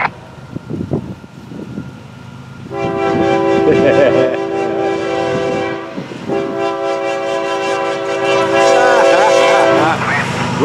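A Florida East Coast Railway freight train passes close by with its horn sounding in long, loud blasts, rumbling and clattering underneath; some talk at the start.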